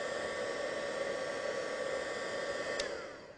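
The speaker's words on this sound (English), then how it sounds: "Mind where you hold the bangle, because that heat gun gets really hot" A heat gun blows hot air onto a plastic bangle, a steady, even hiss of forced air running close by and fading slightly at the end.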